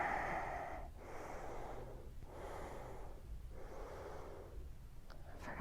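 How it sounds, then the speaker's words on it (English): Slow, deep breaths during a yoga flow, with close, airy inhales and exhales alternating in a steady rhythm of about three cycles and no talking. "Inhale. And exhale."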